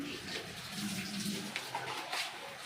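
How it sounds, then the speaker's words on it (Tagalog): Water runs steadily from a tap as dishes and plates are washed, a continuous soft splashing wash with occasional clinks, no talk over it. "At siya ay naghuhugas ng plato."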